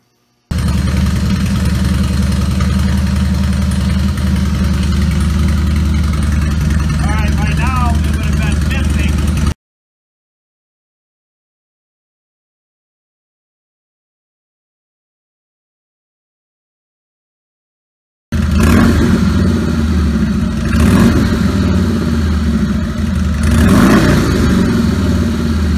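Car engine started and revved after a fuel injection controller install, a steady loud engine drone up close, cutting out for a long silent gap midway before resuming with rising revs.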